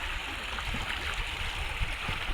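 A river at Pen Borgao flowing steadily, giving a continuous broad rushing wash of water, close and fairly loud with no voices.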